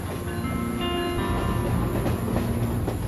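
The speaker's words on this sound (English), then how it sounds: "There's a train really close to there that actually goes to California." A train passes close by, a loud steady rumble of rail cars with clickety-clack wheel noise and faint squealing throughout, no voices.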